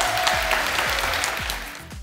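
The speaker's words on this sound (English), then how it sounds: "So give yourselves a massive round of applause." Audience applause at an awards ceremony, a dense steady patter of clapping hands filling the room at full strength before easing off slightly toward the end.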